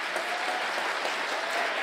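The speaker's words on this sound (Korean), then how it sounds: "우리 이왕에 치는 박수 힘있게 치시겠습니다" A church congregation at a prayer retreat claps together, a dense, loud, steady wall of applause with no pauses.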